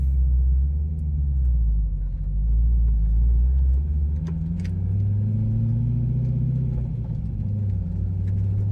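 A finished, rebuilt Corvette's engine rumbles steadily on its first drive, a deep, loud, continuous low note that rises and falls gently as the car is driven with light throttle, with a few faint clicks on top.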